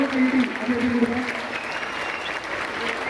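A crowd claps warmly to honour a person at a public felicitation event, dense applause at close range that swells briefly and then holds steady.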